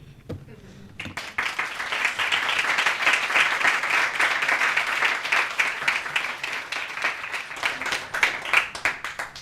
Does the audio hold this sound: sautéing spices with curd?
no